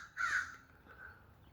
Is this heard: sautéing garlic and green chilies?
no